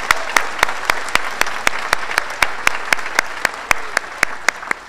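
Rhythmic, evenly spaced clapping, sharp and fairly loud, for Derek Livingston, chair of a memorial celebration tied to the Utah Shakespeare Festival, steady throughout with no voices.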